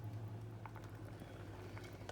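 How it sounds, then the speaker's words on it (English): A pot of water with carrots bubbling at a steady low simmer, soft gurgles and pops over a constant hum, close and quiet with no talking. "So there you can see that the carrots are boiling."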